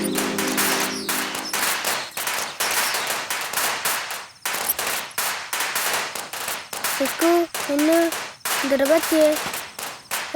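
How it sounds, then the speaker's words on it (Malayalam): Firecrackers bursting in rapid, loud, overlapping volleys of sharp bangs across the whole stretch, with brief pauses and a voice calling out in between. "അതാ പടക്കം പൊട്ടിനായിട്ട് പേടിച്ചതാ"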